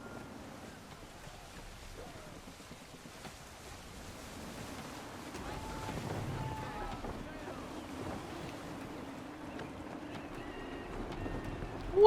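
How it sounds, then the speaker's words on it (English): Strong gusts of wind rush over open sea in Assassin's Creed III, a steady, loud roar that swells and stays heavy, with low water and boat-like rumbling underneath. "Ooh, that wind is loud."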